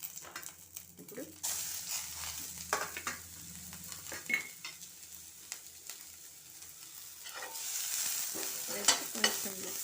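Green chilies, curry leaves and cashews frying in a pan, a close crackling sizzle broken by repeated stirring scrapes and clinks, growing louder and hissier toward the end, with a voice faintly underneath.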